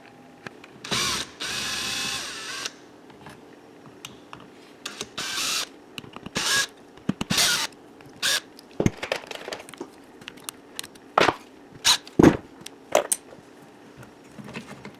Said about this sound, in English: take these 4 screws that hold the shock tower on off